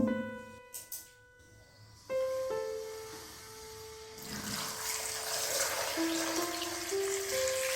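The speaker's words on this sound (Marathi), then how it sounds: "आता त्यामध्ये आपण उकळतं पाणी टाकणार आहे गरम" Hot boiling water poured over squeezed lemons for pickle, starting after a few clinks and faint tones, then a steady close pouring splash with rising gurgling pitch as the container fills.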